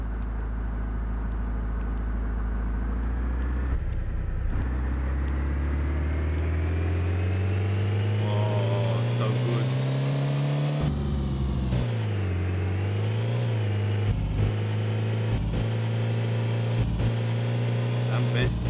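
A car engine drives in the video game DayZ, a loud, continuous droning hum whose pitch climbs steadily as it accelerates, then dips and rises again through gear changes and revving, close and dominant throughout.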